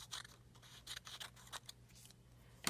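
Scissors snip through a strip of paper in a quick series of short crisp cuts, close and fairly quiet, with a louder final snip at the end.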